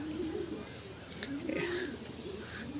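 A male and female pigeon coo softly in low, rolling, repeated calls, close by and steady.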